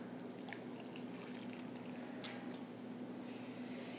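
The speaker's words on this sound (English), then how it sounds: "So now I am going to throw in my water." Two cups of water are poured into a mixing bowl, a faint, quiet trickle and splash over a low background hum.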